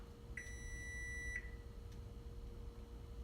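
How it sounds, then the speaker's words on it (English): An oven timer sounds one sustained electronic beep of about a second, steady and clear over a low background hum. "My timer is up."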